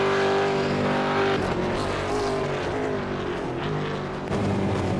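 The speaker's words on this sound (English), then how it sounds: "Let's just go silent for a second and listen to him go through the downshifts at the chase." A Commodore V8 race car in iRacing at Bathurst, heard alone with no commentary: the engine note drops through a sequence of downshifts under engine braking, loud and close, with a continuous roar throughout.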